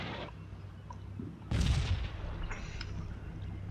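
Javelin missile launched in the war game Combat Mission Shock Force 2: a sudden loud blast and rushing roar bursts out amid ongoing low battlefield rumble, then trails off.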